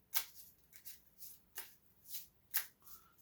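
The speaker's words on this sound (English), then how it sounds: "Do the side shuffle here" Cards for the Stilicho board game are riffled in several quick, crisp bursts at close range, with short pauses between each shuffle and no talking.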